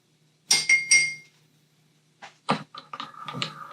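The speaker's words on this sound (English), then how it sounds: "Give that a little mix." A spoon clinks against a glass as an espresso shot is stirred into about three ounces of frothed regular milk: three bright, close taps, then a pause, then a quicker series of lighter clinks and scrapes.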